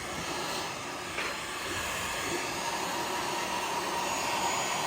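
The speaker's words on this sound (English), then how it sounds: "Our little Harbor Freight heat gun." A small Harbor Freight heat gun blowing hot air onto a plastic motorcycle speaker pod, a steady close whooshing fan roar with constant high hiss throughout.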